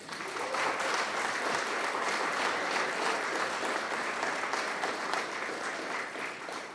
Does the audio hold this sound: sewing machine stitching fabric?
no